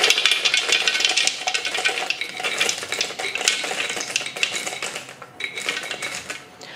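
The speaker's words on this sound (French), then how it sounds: "Le mélange de miel est chaud. Donc nous allons maintenant ajouter 300 g d'amandes entières." Whole almonds tumble into a hot honey mixture in a pan, giving a dense clattering rattle with scraping and stirring that continues unevenly for several seconds.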